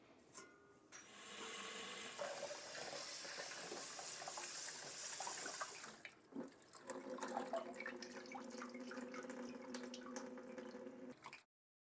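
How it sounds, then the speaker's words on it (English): Beet greens washed under a running tap: a loud, steady rush of water for several seconds, then lighter splashing, dripping and handling of wet leaves, close by with no talking. "First thing you want to do is wash these greens."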